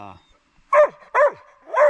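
Riley the dog barks three times in sharp, close bursts spaced about half a second apart, with a brief whine before the first bark, on a hiking trail.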